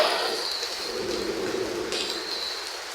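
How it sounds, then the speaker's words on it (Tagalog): Heavy rain pours down in a constant, dense hiss with no break from start to finish. "Lakas ng ulan."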